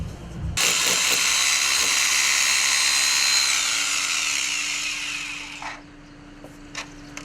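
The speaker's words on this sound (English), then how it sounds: "So every 4 inches, 5 inches, whatever it is, fire a hole in the masonry" Power drill boring a hole into wet masonry used as fishing bait: loud, close, continuous high whine that runs for about five seconds and then stops, followed by a low hum and a couple of small clicks.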